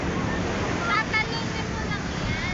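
Steady roar of ocean waves and surf with wind buffeting the microphone, continuous and fairly loud throughout.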